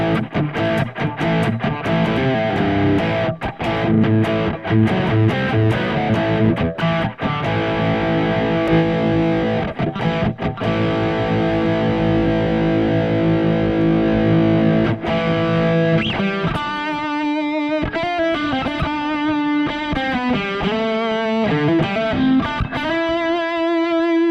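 Heavily distorted electric guitar with humbucker pickups through an Engl amp plugin rings out loud and sustained chords, then shifts into a brighter, warbling lead line with drifting pitch and feedback-like tones.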